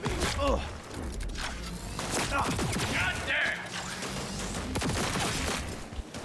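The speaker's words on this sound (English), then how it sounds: "Between the burst fire and the charge shot, I hate this fucking thing." Smart gun bursts in Cyberpunk 2077 crack repeatedly as clustered gunfire bursts amid game combat noise, mixed under someone talking.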